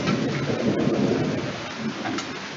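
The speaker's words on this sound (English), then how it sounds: "Oh, it's hailing." Heavy storm in Kansas with hail and rain pelting a surface steadily, thunder rumbling low throughout; a loud, dense, continuous wash with no voices.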